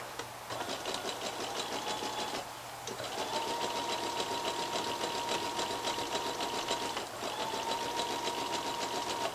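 A domestic sewing machine stitches leggings fabric in steady, fast bursts, with a short pause partway through before the motor runs up again, close and continuous.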